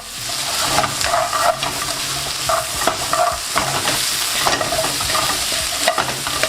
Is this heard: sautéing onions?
yes